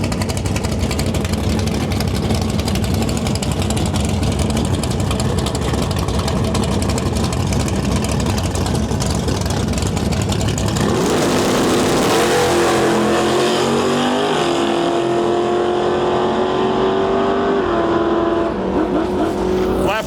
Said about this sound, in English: we got a Dodge Charger RT in our lane and a third gen Camaro far side of the track